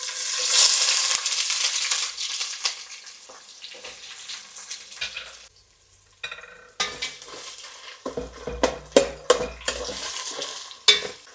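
Onions go into a pan of hot oil with cinnamon, shahi jeera and bay leaf while cooking khichdi: a loud sizzle at first, then a quieter spell and close, uneven scraping and clattering of a spoon stirring the pan.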